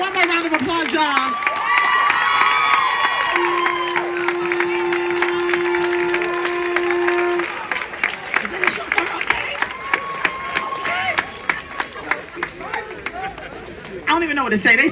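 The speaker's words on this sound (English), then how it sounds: "Give them one more round of applause, y'all." Crowd at a Black Lives Matter protest clapping and cheering loudly for performers, dense sustained applause with whoops and a held tone, thinning into scattered claps as a voice talks over it near the end.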